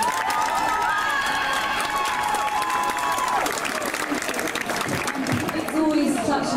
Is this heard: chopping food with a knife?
no